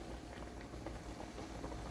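Tomatoes simmering for homemade passata, with a dense, steady bubbling and low patter from the pot that runs continuously at close range with no talking.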